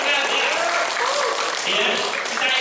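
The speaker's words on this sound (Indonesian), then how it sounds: "tepuk tangan dong" Participants in a capacity-building workshop clap briefly and loudly, with voices mixed in over the applause.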